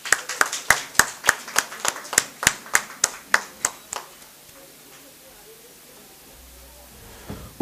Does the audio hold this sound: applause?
yes